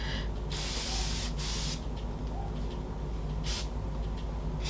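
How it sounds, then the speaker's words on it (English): Desi Skin Do Me Over face mist spritzes out in three short hissing bursts, close and soft, with a steady low room hum underneath. "use the Desi Skin Do Me Over. This is a prep, set, and refresh face mist"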